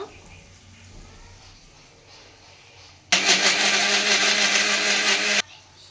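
A mixer grinder pureeing whole tomatoes roars loudly for a little over two seconds, then cuts off abruptly, with a quiet room before and after.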